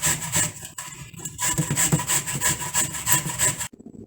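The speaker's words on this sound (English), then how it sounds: "My zucchini had been shredded." Zucchini rubbed against a grater in a home kitchen, giving close, rapid rasping strokes in an even rhythm for a few seconds before stopping abruptly.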